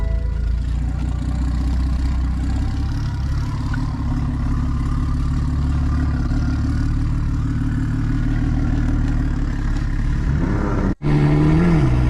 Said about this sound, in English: This thing sounds like a straight diesel.